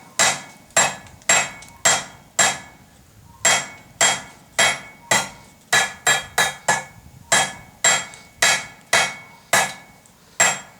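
Rapid hammer blows on hot steel while forging a taper on a drink spike, about two dozen sharp ringing strikes in a steady, slightly uneven rhythm, close and loud.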